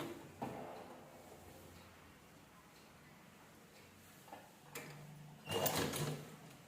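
Sewing machine stitching golden lace onto fabric, heard faintly as short whirring runs and clicks in a quiet room, with a louder burst near the end.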